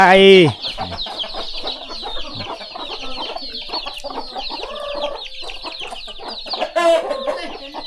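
Chickens cluck continuously and close by around a rural home in southern Laos, one bird giving a louder squawk at the start and another burst near the end.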